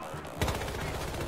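Rapid gunfire erupts in a Battlefield Hardline multiplayer match, a dense burst of loud shots crackling together amid smoky combat.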